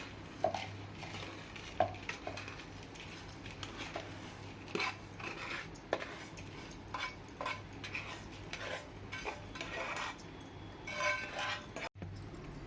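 Rava laddu mixture stirred in a bowl, with a spoon clinking and scraping against the sides in uneven bursts, close and fairly quiet, without speech.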